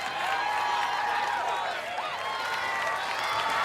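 Spectators at an American Ninja Warrior course cheer on a competitor, a dense continuous roar of crowd noise with shouts and scattered clapping, steady and fairly loud.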